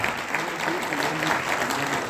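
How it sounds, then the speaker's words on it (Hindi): An audience at a large camp gathering in Jaipur gives loud, dense applause throughout, with a voice faintly audible underneath. "एक जोरदार ताली, एक जोरदार ताली"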